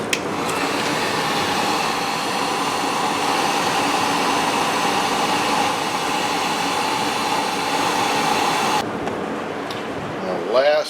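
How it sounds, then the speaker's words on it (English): A heat gun blows a loud, steady hiss of hot air onto Harley-Davidson Night Train motorcycle parts for several seconds, then stops abruptly, leaving a brief quieter tail. "Heat gun. It's going to heat both of them."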